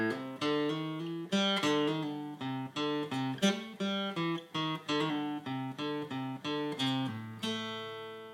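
Electric guitar playing a song intro, a lively blues riff of quick plucked notes and chords in a steady rhythm, clean and close, with no voices.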